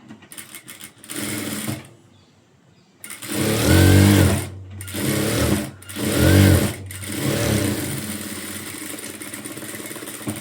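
A sewing machine runs a half-inch seam on a blouse, whirring loudly and close in three steady runs with brief stops between them.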